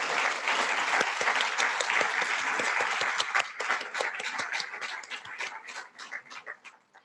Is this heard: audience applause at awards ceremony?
yes